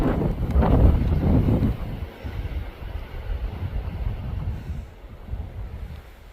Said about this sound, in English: But it is super windy.